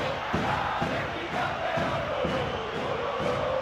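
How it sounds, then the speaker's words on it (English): Large football stadium crowd at an Atlético de Madrid v Roma Champions League match roars in reaction to a near-miss header, a steady loud wash of voices that swells and surges throughout. "judging by the crowd's reaction, they thought he'd done enough too."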